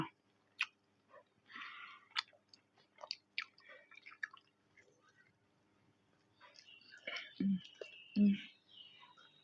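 Fried fermented fish (pla som) is chewed close to the mic in quiet, scattered crunchy bites, with two heavier crunches near the end. Soft murmured speech is heard between the bites.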